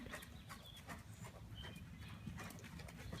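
A gaited horse canters in a riding lesson, its hoofbeats thudding in a quick, uneven rhythm over a muffled rumble. The sound is faint and somewhat distant.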